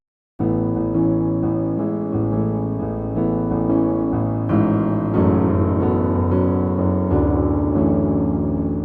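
Solo piano plays a song, a gentle pop melody with steady chords underneath, clear and close, continuous from start to finish.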